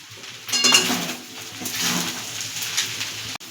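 Pasta with sauce is stirred in a pan, probably a boiled-egg pasta dish, with a utensil clanking and scraping against the metal in a few close, uneven knocks over a soft wet churning.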